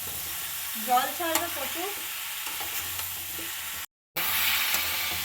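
Bottle gourd frying in a pan with spices and chilli, giving a soft steady sizzle broken by scraping stirs, with a few words spoken over it and a brief dropout.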